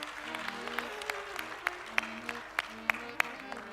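Audience clapping at a Hindu religious discourse on the Kalki avatar, a thin patter of scattered claps with several sharper individual claps standing out, moderately distant in a large gathering, with no talk over it.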